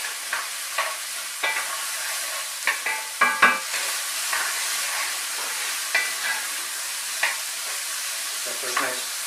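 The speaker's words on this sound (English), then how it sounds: "So we're going to add a little bit of pancetta. Let that caramelize up a little bit." Pancetta fries and caramelizes in a pan over high heat, giving a steady loud sizzle broken by periodic scraping stirs.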